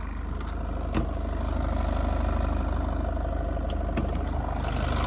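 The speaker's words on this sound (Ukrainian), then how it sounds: "подивіться, двигунчик просто муркоче" A Citroën C-Crosser 2.2 diesel engine idles with a steady low rumble and rhythmic diesel clatter, close and continuous, with a couple of faint knocks over it.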